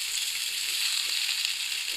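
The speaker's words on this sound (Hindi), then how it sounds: "इसमें शामिल करेंगे एक मीडियम प्याज, मैंने लेके इसकी आमले कटिंग कर ली थी, इसको शामिल करेंगे। हल्का सा इसको फ्राई करेंगे" Chopped onion fries lightly in a pan for aloo naan filling, a soft, even sizzle holding steady and close with faint stirring scrapes.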